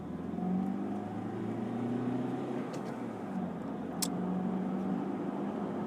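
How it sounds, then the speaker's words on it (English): Honda CR-V 2014 with a 1.6 diesel engine accelerating at full throttle in second gear, heard from inside as a steady, moderate engine drone with rising tonal hum. "So say, for example, if I floor the car,"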